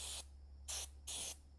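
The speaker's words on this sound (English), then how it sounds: "Got some electronic cleaner here, spraying for the hell of it." An aerosol can of electronic contact cleaner sprays in three short, sharp hissing bursts, close by and fairly loud against a low steady hum, spraying onto a Duramax truck's interior light fitting.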